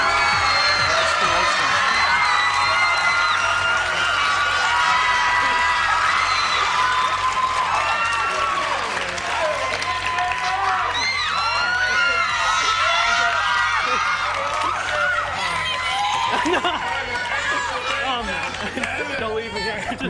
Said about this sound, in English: guys, girls, everybody, old, young, on their feet, screaming